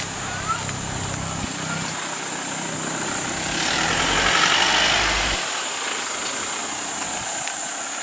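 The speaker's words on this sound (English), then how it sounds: "It's the tricycle we're going to ride." A Philippine tricycle's motorcycle engine runs steadily at idle, a continuous mechanical drone that swells briefly midway, with a voice speaking over it.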